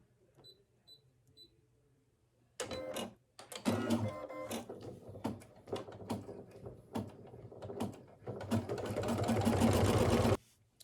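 An embroidery machine threaded with white thread stitches a circle outline, its rapid mechanical chatter starting abruptly after a quiet lead-in and running loud and close in busy bursts before cutting off.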